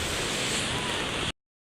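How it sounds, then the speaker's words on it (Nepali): Ocean surf rolling onto a crowded beach in Odisha, a steady broad wash of breaking waves heard up close and fairly loud, ending abruptly after about a second. "हेर्नु अब ठुलो ढेउ आउँदैछ"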